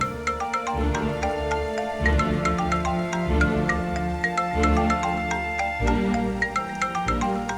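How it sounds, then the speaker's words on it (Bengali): A phone ringtone plays a repeating bright melodic tune over several cycles, loud and close, with no one talking over it. "মা তোমার ফোন"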